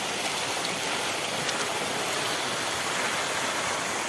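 A village waterfall pouring steadily, a constant, even hiss and rush of falling water heard close up with no pauses and no voices.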